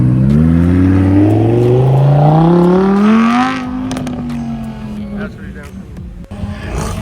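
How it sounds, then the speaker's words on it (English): A V10 car engine revs hard at a cars and coffee meet, climbing in a long, loud rising sweep before settling back to a rumbling idle, close by with people talking around it. "Rev the V10. Rev it up."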